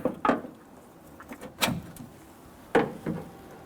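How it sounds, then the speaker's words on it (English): A few hollow metallic clunks and knocks as a door check is pushed through and dropped inside a Toyota Tundra front door shell, close and sharp, spaced irregularly with brief rattles between. "I'm going to push this through, drop it down inside."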